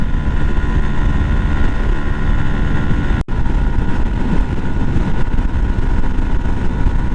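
A Yamaha YZF-R 125 motorcycle accelerates hard to overtake, its engine a loud, steady roar mixed with heavy wind rush, briefly cutting out for an instant midway before droning on.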